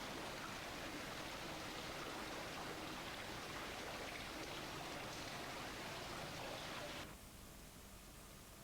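Seawater rushes through brick dock culverts as a steady, dense roar that drops abruptly to a lower, quieter rush near the end.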